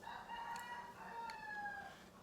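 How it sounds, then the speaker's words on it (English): A rooster crows faintly in the distance behind a quiet indoor scene, its drawn-out call rising and then falling away over about two seconds. "Damn you, chicken."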